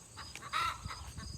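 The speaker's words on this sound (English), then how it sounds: "Chickens in the background." Farm chickens cluck in the background at a moderate distance, with a short burst of calls in the middle and a few softer clucks scattered around it, all without any talk.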